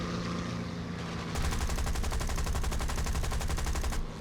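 Aircraft machine guns fire in War Thunder: a rapid, evenly paced burst rattles loudly for several seconds over a constant engine drone, with no speech.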